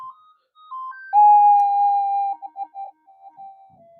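Electronic tones from a Minelab GPX-4500 metal detector just after a reset to factory default: a few short rising beeps, then a sustained steady tone that breaks into wavering, pulsing hums, with no voices.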